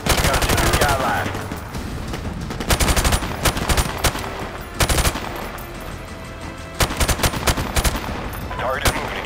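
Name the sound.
gunfire in Call of Duty 4: Modern Warfare Remastered video game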